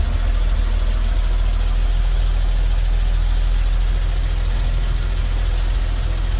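A 1955 Dodge Power Wagon with a 4-speed manual idles loud and steady, a constant low engine rumble with a broad mechanical hum that holds unchanged throughout, no talking over it.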